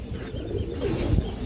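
A Gorra pigeon, a white-beaked, white-clawed bird with dark plum-coloured feet, coos in low, throaty rumbles that run continuously and close by for the whole moment, with no talking.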